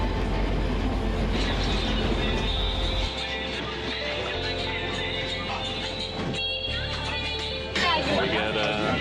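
A passenger train rumbles along steadily on the rails toward the Himalayas with low droning and occasional rattles, while voices talk faintly over the noise.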